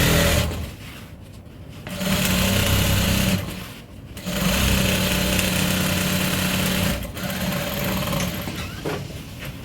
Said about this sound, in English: Then I'm going to sew it with half of an inch, half of an inch